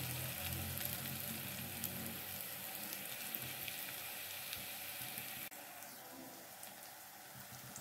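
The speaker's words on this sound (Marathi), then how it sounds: "हे सगळं छानपैकी परतून घ्या।" Onion-garlic masala for egg curry sautéing in a pan, a steady soft sizzle and crackle running continuously, fairly quiet and close, with a brief dip partway through.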